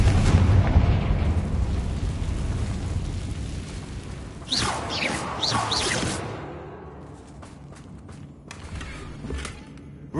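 A magical Confringo fire-blast spell explodes in the Hogwarts Legacy video game, a loud rumbling boom followed by a swelling whoosh and crackle that fades into quieter debris sounds.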